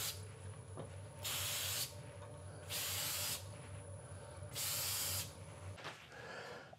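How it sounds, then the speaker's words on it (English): Three bursts of aerosol finish spray onto wood hiss in even intervals, each about half a second long, over a low steady hum of a slowly turning lathe. "And just spray this on."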